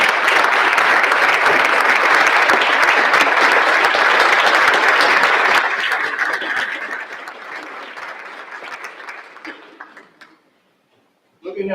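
Applause from a large county gathering honoring Montgomery County, Ohio employees, sustained and dense for several seconds, then thinning out and fading to near silence.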